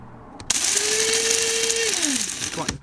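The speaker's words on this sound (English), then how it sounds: "I'm going to switch on the grinder now and cover your ears." An electric coffee grinder whirs through a batch of coffee beans, starting with a click, holding a loud steady motor whine for about a second and a half, then falling in pitch as it winds down, close up.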